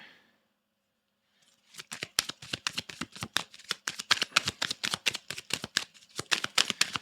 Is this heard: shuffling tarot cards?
yes